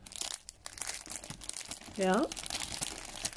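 A plastic bag with a hook-and-loop closure crinkles and rustles close by in a short burst of handling while a voice speaks briefly.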